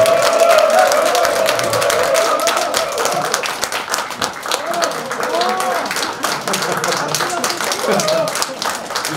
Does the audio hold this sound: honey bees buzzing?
no